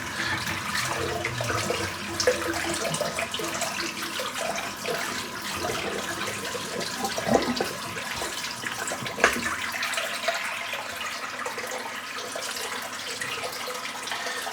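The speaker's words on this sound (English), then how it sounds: "I'm just going to empty this water out the sink." Water pours out of a container into a bathroom sink during a shaving routine, a steady close splashing and trickling rush that runs continuously with a few small knocks and no talking.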